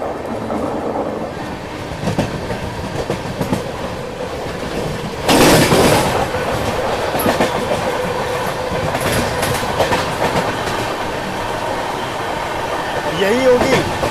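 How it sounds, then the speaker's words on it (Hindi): An Indian Railways Secunderabad–Hisar Express rake rolls past, a continuous rumble and rhythmic clickety-clack of wagons close by, with one louder surge midway and faint voices in the background. "ये तो यार्ड वगैरह कहीं से रेक जा रहा है सिकंदराबाद हिसार का"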